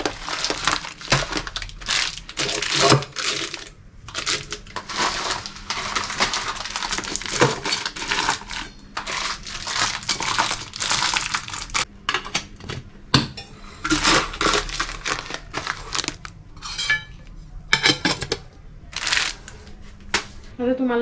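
Packets of pulses are set one by one into clean, washed kitchen containers, making repeated crinkling plastic rustles and light knocks close by, with someone talking over them.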